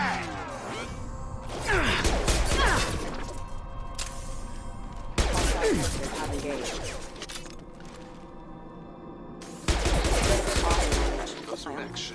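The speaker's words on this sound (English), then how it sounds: "Taking heavy fire!" Heavy automatic gunfire from hostile mechs in the video game Mass Effect 2, loud bursts of rapid shots with crashes, coming in long waves separated by brief lulls.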